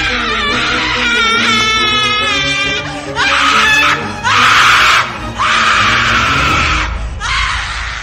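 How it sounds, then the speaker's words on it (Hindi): A female demon screams and wails for a horror story, long shrill cries in several loud bursts with short breaks between them, harsh and close. "उसके चीखने चिल्लाने की आवाज सब जगह गूंजने लगी"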